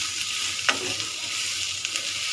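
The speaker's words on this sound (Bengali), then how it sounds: "আরেকটু ভেজে তারপরে সবগুলো উপকরণ একসাথে মিশিয়ে ফেলবো" Beef and vegetables sizzle steadily in a frying pan for a beef sizzling dish, with a single sharp clink of a utensil partway through and a few soft stirring scrapes.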